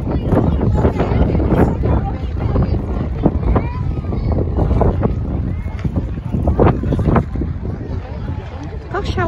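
Gusty wind roars and buffets the microphone while a kite is flown outdoors, a loud, continuous rumble rising and falling in bursts, with voices mixed in.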